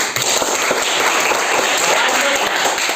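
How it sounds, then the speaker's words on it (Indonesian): A classroom claps for group 2, a dense burst of applause from many hands, loud and close, steady for a few seconds. "Tepuk tangan dulu buat teman kalian kelompok 2"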